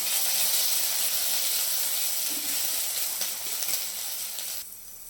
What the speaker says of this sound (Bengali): আমি রসুন কুচি আর আদা কুচি দিয়ে দিলাম, দিয়ে ভালো করে নাড়াচাড়া করে